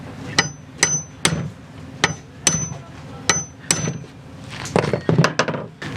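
Center punch struck with a hammer while fitting a Sta-lok forestay fitting on a sailboat; about eleven sharp metallic strikes land in an uneven rhythm, close and fairly loud, with a quicker cluster of blows near the end.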